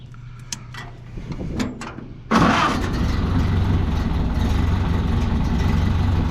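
A 1930 Ford Model A engine cranks briefly, then catches and roars into a steady, loud running note that continues without pause, recorded up close with no speech.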